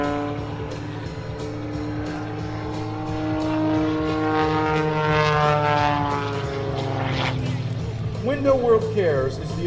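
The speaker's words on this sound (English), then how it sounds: "Just hanging off that whirlwind propeller like a helicopter, using all 370 horsepower from that Sky Dynamics engine." The MXS-RH aerobatic plane hangs on its propeller like a helicopter at an airshow, its 370-horsepower Sky Dynamics engine giving a steady loud buzzing drone with shifting pitch, while an announcer talks over it.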